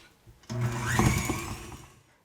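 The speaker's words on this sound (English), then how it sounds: "So in the bowl of my stand mixer, I have my cup of butter, and I've got my paddle attachment here. So I'm just going to cream it first to start." A stand mixer with a paddle attachment creams a cup of butter in its bowl, its motor starting abruptly, whirring steadily at close range for under two seconds, then winding down.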